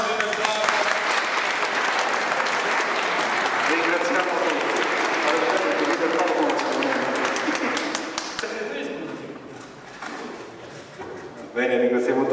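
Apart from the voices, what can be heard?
applause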